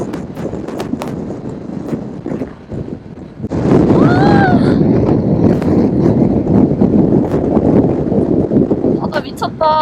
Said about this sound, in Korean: 바람 짱세